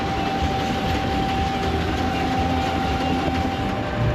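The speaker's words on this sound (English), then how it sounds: "starting with this barrel showmances that was actually powering a ride here." A barrel-style steam showman's engine powers a fairground ride at a night steam rally, giving off a steady mechanical rumble and chugging with a thin sustained whistle-like tone running through it, moderately distant and unbroken.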